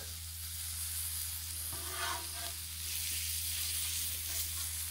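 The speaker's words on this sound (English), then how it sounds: "Trying to cook some steaks." Tri-tip steaks sizzle on a hot griddle, a steady close crackling hiss with a brief louder flare partway through, no voices.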